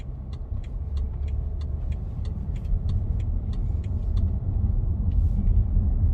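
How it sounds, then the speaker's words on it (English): A steady low rumble of a BMW X5's 3.0-litre six-cylinder turbo diesel engine from inside the moving SUV, with faint regular clicking ticks above it, continuous and fairly loud throughout. "This 6-cylinder turbo diesel is really a gem of an engine"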